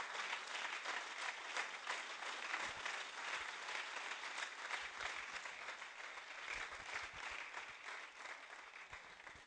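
A church congregation applauds steadily throughout, a dense, sustained wash of clapping from many hands filling the room without speech.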